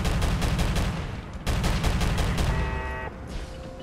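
Turret gunfire in Fallout 4: rapid, loud bursts of automatic shots in dense repeated volleys, a brief gap near the middle, then a steady mechanical whine as the firing fades.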